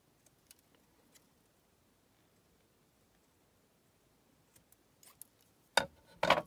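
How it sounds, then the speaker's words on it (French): Scissors snip sharply a few times near the end of an otherwise quiet stretch, crisp close-up cuts rounding the edges of a cardboard toilet paper roll. "Donc là, je fais ça avec mes ciseaux."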